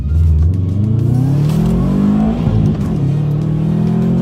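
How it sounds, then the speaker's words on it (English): A Subaru WRX hatchback's turbocharged engine revs hard and loud, its roar rising and holding steady throughout with whirring, surging tones and no voices over it. "Can y'all hear this? Like, like the turbo noises, man."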